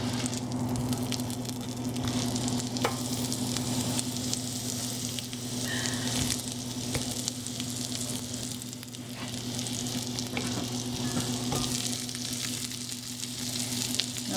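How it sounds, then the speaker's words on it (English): Garlic and then onions fry in a pan for a French onion pot roast, a steady, fairly close sizzle with soft crackles and occasional stirring pops running throughout, with no voices. "we put the garlic in there, then the onions,"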